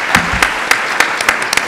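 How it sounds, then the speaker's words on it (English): Audience applause after a university keynote address, a steady dense patter of many hands clapping at moderate loudness with a few sharper claps standing out, no talking over it. "Let's give them a big hand of applause for all the work you do here at UT."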